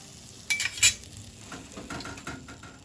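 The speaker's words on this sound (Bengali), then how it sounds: "আমি এইভাবে পালং শাকগুলো হালকা করে একটু নেড়ে নেব।" Spinach is stirred gently in a pan for dhaba-style garlic palak paneer. Two sharp metal clanks come early, followed by softer scraping and a light sizzle over a few seconds.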